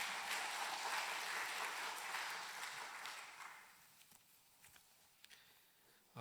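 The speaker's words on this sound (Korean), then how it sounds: "아름다운 목소리로 찬양으로 영광 돌린 우리 글로리아 찬양대 격려의 박수 한번 부탁드리겠습니다." Church congregation applauding the choir during a worship service, a fairly quiet wash of clapping that fades away over a few seconds, leaving scattered faint taps and shuffles.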